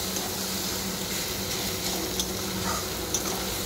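Food fries in a pan in a home kitchen, giving a steady, continuous sizzle with faint crackles and occasional soft ticks, with no voices.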